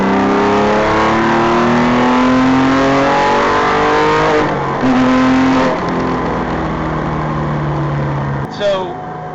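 A Porsche sports car with a hand-built R43 engine revs hard after a downshift, climbing steadily in pitch as it accelerates in third gear at part throttle, loud and close, with a brief shift near the end.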